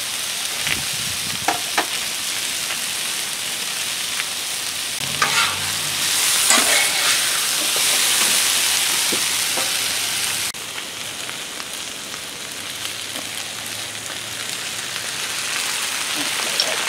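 Chicken and vegetables stir frying on a Blackstone griddle, a dense continuous sizzle with occasional scraping and tapping of a spatula, steady and close throughout.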